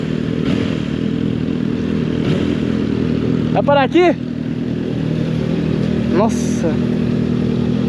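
Honda CBR 650R motorcycle, a 2023 model, droning steadily while being ridden, with a constant engine tone under road noise and a rider's voice speaking over it.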